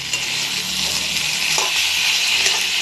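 Egg curry masala with potatoes stir-fried in a pan, a steady loud sizzle of frying under occasional scrapes of a spoon, with no talking.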